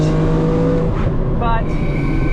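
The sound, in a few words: BMW Z4M Coupe engine while driving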